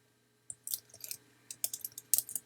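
Quiet, close keystrokes tapped on a computer keyboard while entering text in a design app, coming in short irregular bursts of clicks with brief pauses between.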